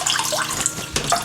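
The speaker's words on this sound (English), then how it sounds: "So let's try and fill up some washing up water." Tap water runs steadily into a washing-up bowl in a kitchen sink, a continuous splashing gush heard up close, with a brief louder surge partway through and no talking.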